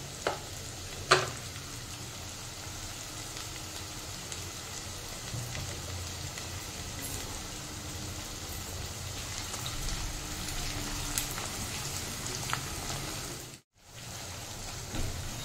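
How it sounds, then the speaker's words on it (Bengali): Sliced onions fry in hot oil to a golden-brown beresta for mutton biryani. The sizzle is a steady, soft crackle with light spatter and occasional stirring clicks, and it is briefly cut off near the end. "এটা একটু গোল্ডেন ব্রাউন করে ফ্রাই করে নিতে হবে"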